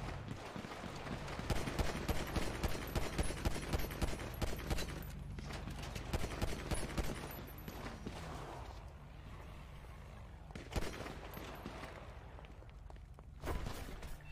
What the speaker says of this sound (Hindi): कहाँ फायरिंग हो रही है